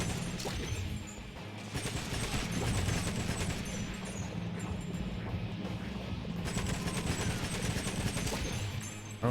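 Dense, continuous automatic gunfire and crashing effects from GoldenEye: Rogue Agent on Xbox roar steadily throughout, loud and unbroken with no talk.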